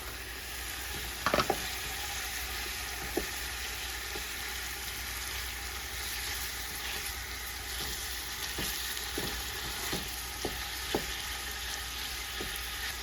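Ground pork fries with garlic and onion in a pan, giving a steady, even sizzle throughout, with scattered light clicks and scrapes of stirring.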